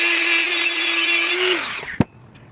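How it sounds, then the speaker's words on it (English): High, steady whine of a Dremel rotary tool cutting, close and loud, winding down after about a second and a half, followed by a single sharp knock. "I'm going to go ahead and get my Dremel, and then we're going to go ahead and start cutting it."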